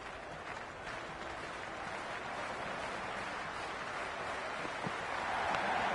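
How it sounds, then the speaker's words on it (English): A cricket stadium crowd in the video game Cricket 26 keeps up a steady, broad roar of cheering and clapping at moderate distance, with no clear peaks, throughout the whole stretch. "already the crowd is up and about"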